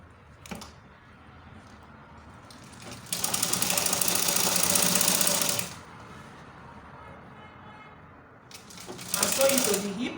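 A sewing machine stitches a panel of a six-piece skirt with a full lining, in two bursts: a long steady run in the middle and a shorter one near the end, close and fairly loud, with quieter handling noise between.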